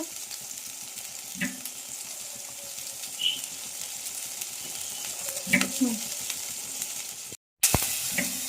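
Three chillies sizzle in a pan with garlic and ginger for a fish curry, a soft continuous frying hiss broken by a few stirring scrapes and clinks.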